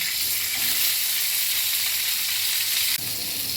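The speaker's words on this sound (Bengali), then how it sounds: "এবারে আমি ব্ল্যাক পেপার ইয়েগুলো ক্যাপসিকামগুলো ভেজে তুলে নেব এই বাটারের মধ্যে।" Bell peppers frying in butter in a pan, a dense, loud, even hiss of sizzling that runs unbroken for the whole stretch, with a brief dip near the end as the pan is shifted.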